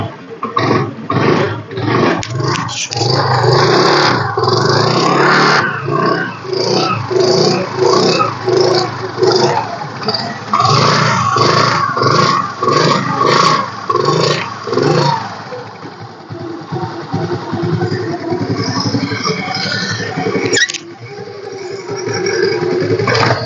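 A Hero Splendor motorcycle engine runs steadily for a long stretch, loud and close, with a droning, roaring tone that rises and falls slightly and no voices over it.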